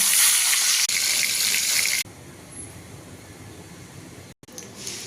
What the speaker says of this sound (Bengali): আলুগুলো তুলে নেওয়ার পর মাংসটাকে ভেজে নেব